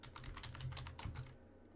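Quick run of keystrokes on a computer keyboard while a command is entered to fix a Valorant error, steady close clicking for under two seconds, then tapering off.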